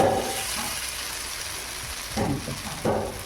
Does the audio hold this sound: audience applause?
no